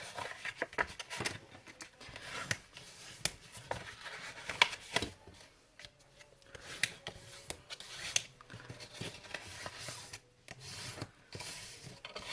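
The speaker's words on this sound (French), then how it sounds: "Alors, on va faire les plis." Paper is creased and folded by hand to make a loaded envelope, giving soft rustles, rubs and sharp crisp crackles in uneven bursts with quiet pauses between them. The sound is close and fairly faint, with no voices.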